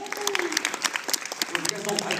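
Audience clapping in a steady, dense wash of applause with scattered louder claps, a voice briefly audible over it, fairly close and continuous throughout.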